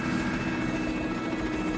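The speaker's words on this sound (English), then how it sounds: "I see these helicopters." A helicopter at close range produces a loud, steady broadband engine and rotor drone with constant intensity and no pauses.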